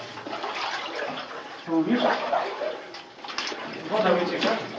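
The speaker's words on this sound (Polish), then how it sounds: "Też woda się przez niego sączy." Water trickles and seeps through a collapse in an old mine adit at Liczyrzepa mine, a steady wet hiss running throughout while people talk in echoing voices over it.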